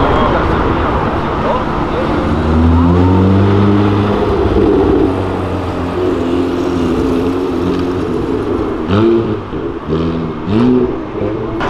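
Porsche and BMW cars accelerating along an avenue: loud, rising engine roars with revs climbing and shifting over continuous traffic noise, with voices talking over them.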